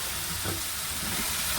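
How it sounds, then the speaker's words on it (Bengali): Cauliflower frying in a pan with potato, onion and tomato, a steady broadband sizzle that stays constant and fairly close throughout, with no talk. "এই যে কপিটা ভাজা হচ্ছে"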